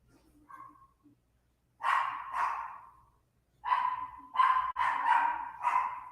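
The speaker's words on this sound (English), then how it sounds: "I didn't think those dogs would still be out at this hour." Dogs bark outdoors at night, a soft yip first, then a pair of sharp barks and a quick run of several loud, close barks separated by silence.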